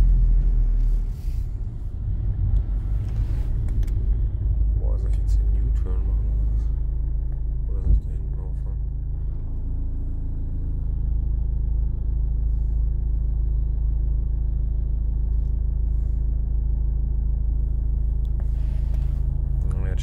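Cold Renault Laguna III 2.0 dCi diesel idling while stopped at a traffic light, a steady low rumbling drone with a heavy vibrating throb, close and continuous, with a few faint clicks and muffled background sounds.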